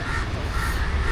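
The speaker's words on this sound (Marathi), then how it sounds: "पक्ष्यांचा आवाज येतो" Crows caw loudly and close by in a quiet Mumbai suburb, harsh repeated calls over a short stretch with no talking.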